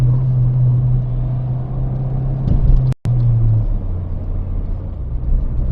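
A Ford Fiesta ST180 engine drones at a steady low pitch during rev-matched downshifts, with a quick throttle blip and a brief cut near the middle before the hum resumes, close and fairly loud, with no talk.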